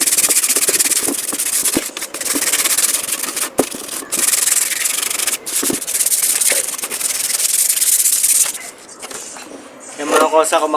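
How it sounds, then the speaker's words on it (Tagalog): Close, loud sanding of a motorcycle body panel before spraying, long rasping strokes repeated with brief pauses, then a short stretch of speech near the end. "So, liha-liha muna tayo."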